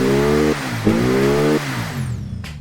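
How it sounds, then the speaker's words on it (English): A 1200 HP time-attack car engine in the racing game BeamNG, with unhappy pistons, revs hard in two loud rising pulls separated by a brief dip, then drops back to a rough idle. "Let's give our new engine a bit of a listen."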